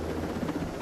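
Helicopter flying in the video game Ghost Recon Breakpoint, a steady, low droning rotor and engine rumble heard continuously and fairly loud, with no talk.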